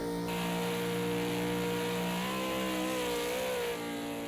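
A V8 Supercar in a racing video game lapping the Nurburgring, a loud sustained engine drone with a steady pitch that wavers and shifts as the car goes light over a crest.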